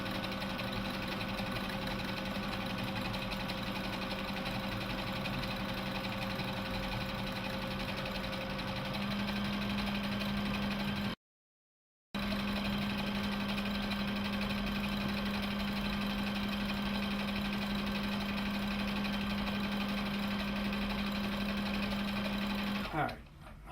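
A Brother combination sewing and 4x4 embroidery machine runs continuously under foot-pedal control, a close, steady motor hum with a sustained whine, briefly cutting out near the middle before resuming and then stopping at the end.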